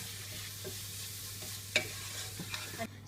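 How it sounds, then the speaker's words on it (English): Chopped tomatoes with spices cook in a pan for a butternut squash curry, giving a faint, soft simmering sizzle with a few brief clicks and scrapes, no talk. "Now I'm going to add my 2 chopped tomatoes"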